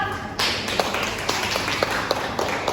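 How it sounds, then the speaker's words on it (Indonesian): A classroom of students claps for a presenting group, a steady wash of many hands with scattered sharper individual claps standing out, starting abruptly and continuing without talk. "Beri tepuk tangannya ya."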